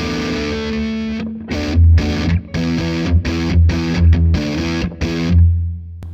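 An electric guitar played through a distortion pedal, heard loud and close with no talking: a sustained chord gives way to a run of rhythmic, choppy distorted chords.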